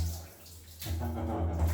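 Shower water running in an apartment bathroom in a Bangkok neighbourhood, a steady close hiss of spray that thickens and grows louder partway through, heard alone.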